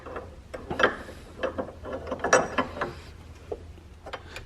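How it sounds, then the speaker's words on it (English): A coilover wrench works the threaded collars on a C4 Corvette's coilover suspension, giving faint metallic clicks and scraping ratchet-like taps at an irregular pace, close and quiet. "kind of going back and forth between the larger and the smaller coilover wrench just to get a good grip on everything"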